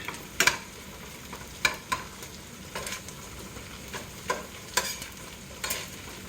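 Philly beef, cheese and peppers stirred in a pan: a soft sizzle underneath repeated sharp scrapes and clicks of a utensil against the pan, coming every second or so.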